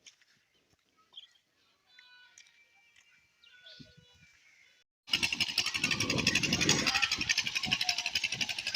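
A village tubewell pump starts running partway through, a sudden loud, rhythmic mechanical thumping and rushing that continues steadily, after a quieter stretch of birdsong and faint outdoor sounds.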